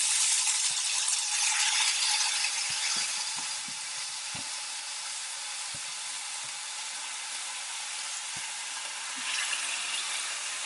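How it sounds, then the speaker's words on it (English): Bacon sizzling in an oiled pan for okonomiyaki, a dense, continuous frying hiss that stays loud and close, with scattered light pops and taps throughout. "I'm going to put the bacon down first"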